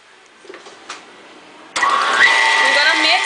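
An electric mixer beats eggs with granulated and light brown sugar for hummingbird cake batter. It switches on abruptly partway through into a loud, steady whirring drone, and someone talks.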